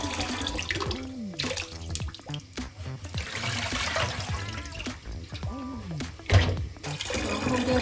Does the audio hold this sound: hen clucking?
no